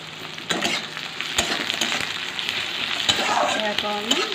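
Onions frying in a pan for a cauliflower, potato and green pea curry, a steady close sizzle with occasional stirring clatter and a brief voice near the end.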